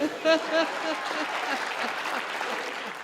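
Audience at a Hindi comedy show claps and laughs in a moderate, fairly close burst that tapers slightly, with a few voices mixed into the noise.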